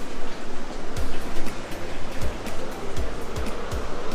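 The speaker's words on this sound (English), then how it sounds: "I think we have arrived to another Curug or waterfall." Curug Leuwi Hejo waterfall in Sentul, a loud, continuous roar of falling water close by, with a few brief low thumps scattered through the rushing wash.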